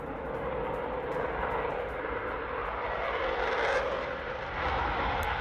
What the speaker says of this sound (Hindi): फ्रांस से राफेल की उड़ान की